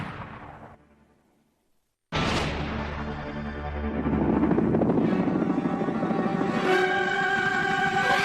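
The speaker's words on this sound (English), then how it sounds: "What's the first image that comes to mind when you think of helicopter gunships?" A helicopter gunship flies past. A loud, steady rotor roar starts abruptly after a brief silence, then swells and thickens with pulsing blade beats and a rising whine, staying strong to the end with no voices.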